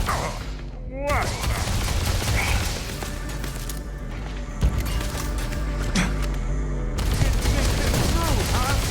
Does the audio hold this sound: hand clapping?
no